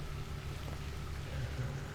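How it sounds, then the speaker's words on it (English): Steady rain falls inside the Bunker16 video game, a dense, even hiss with a low rumbling bed that holds constant throughout and carries no speech. "I hear rain."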